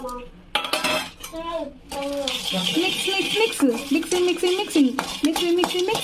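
Metal spoon clattering and scraping around a pan while already-fried masala is stirred into a snack, busy close clinks and scrapes continuing under speaking voices.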